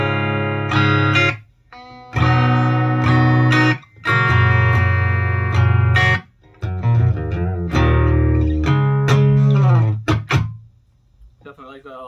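Electric guitar played through a Crate G1600xl amp head on the clean channel with the bright switch on, strummed chords ringing in several loud bursts separated by short pauses, closing with scattered picked notes.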